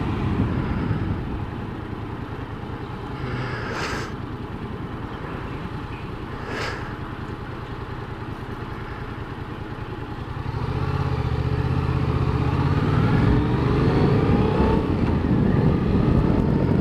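A car engine idles and then swells as the clutch is let out smoothly and slowly by a learner driver, a steady low rumble that rises and strengthens after about ten seconds, with wind buffeting the microphone and no talk.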